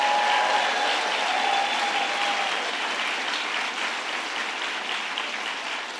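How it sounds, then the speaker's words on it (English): An audience at a New York health care lawsuit announcement with the Governor and Attorney General breaks into steady, loud applause, a thick continuous patter of many hands that eases slightly toward the end, with no speech over it. "Let's give a big round of applause to our Attorney General, who's going to lead us in this fight, Attorney General Eric Schneiderman."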